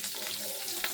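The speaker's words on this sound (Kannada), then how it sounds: "ಸಾಸಿವೆ ಎಲ್ಲ ಫ್ರೈ ಆಗಿ ಚಟಪಟ ಅಂತೈತೆ." Mustard seeds splutter in hot oil for a tempering, making a steady close sizzle with faint crackles, one sharper pop near the end.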